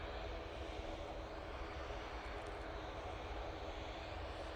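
An Embraer E2 jet arriving from Amsterdam Schiphol at Manchester Airport makes a faint, steady, distant engine rumble with a broad wash of noise and no voices.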